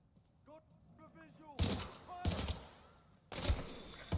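Three loud, sharp bursts of gunfire in Titanfall 2 come at spaced intervals, with voiced chatter and quieter game sounds filling the gaps between them.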